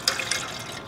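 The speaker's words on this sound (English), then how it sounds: "Now we're going to take our can and add 3 cups of water." Water pours briefly into a tin can that will serve as a cooking pot on a camp stove, giving a short splashing trickle that fades quickly.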